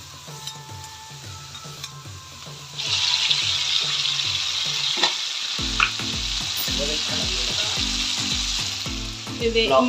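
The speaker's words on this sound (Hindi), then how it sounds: "टमाटर, कड़ी पत्ती और जीरा डाले हैं संगवारी हो।" Tomato, curry leaves and cumin frying in a hot pan, a loud continuous sizzle with stirring clatter and some rhythmic background music.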